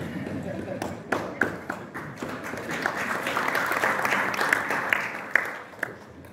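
Audience at the opening of the 42nd EOC General Assembly clapping during a speech, scattered claps building into a loose round of applause with distinct louder hand strikes, voices murmuring underneath.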